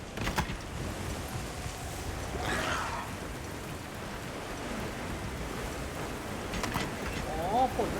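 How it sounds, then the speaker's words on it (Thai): Rain falling in Monster Hunter Wilds: a steady, even hiss of rainfall throughout, with a few brief louder swells and a faint voice now and then. "อ๋อฝนมันตกเว้ย"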